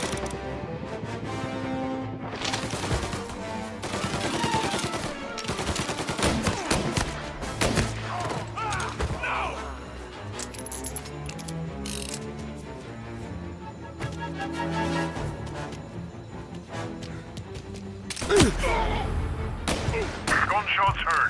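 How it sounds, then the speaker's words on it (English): Gunfire in the video game Mafia Definitive Edition: dense, continuous bursts of shots and booming impacts over a loud, busy game mix, with voices calling out underneath. "Gunshots heard."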